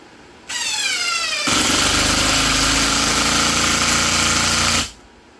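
A Dewalt DCF888 impact driver on its function 2 setting, about 1250 RPM: a loud motor whine that quickly shifts into rapid, rattling hammering for about three seconds, then stops abruptly, close and alone.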